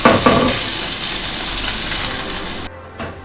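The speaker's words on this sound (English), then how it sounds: "we're going to cook this on butter, just a little bit, and then dry fry it" Food frying in a little butter in a pan, a loud close sizzle that crackles at first, holds steady, then cuts off abruptly near the end.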